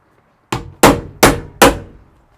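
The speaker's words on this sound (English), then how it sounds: "And this is called an impact screwdriver." A hammer strikes an impact screwdriver four times in a quick, even sequence to break a screw loose on a Toyota FJ40, each blow loud, sharp and close against near silence.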